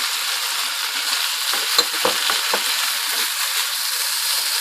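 Mushrooms and capsicum fry in a hot pan, giving a loud, continuous bright sizzle with a few soft stirring knocks in the middle, close up and without speech.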